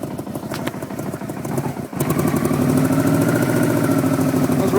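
A 1984 Yamaha Venture motorcycle engine idles close by with a steady, slightly clattery mid-pitched hum. Partway through, the throttle is blipped and the engine settles into a louder, fuller run.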